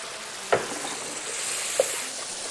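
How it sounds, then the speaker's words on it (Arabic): Food sizzling in oil in a pan, a steady close hiss with two brief knocks of a utensil being stirred, no speech. "حط الزيت حط الزيت سيدي حط الزيت يلا حرك"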